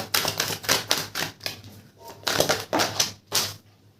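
Oracle cards are shuffled and flipped in rapid, crisp papery bursts: several quick riffling clusters close to the microphone, separated by brief pauses.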